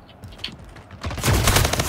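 Plasma rifle fire in the video game Splitgate breaks out as a rapid, loud burst of shots that grows denser toward the end.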